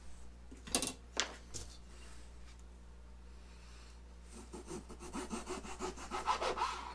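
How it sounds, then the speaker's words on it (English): Hand saw cutting through wood along drawn pencil lines, close rhythmic rasping strokes that start sparse and quicken into a steady back-and-forth run. "Again, cut to the outside of your lines when you draw your lines."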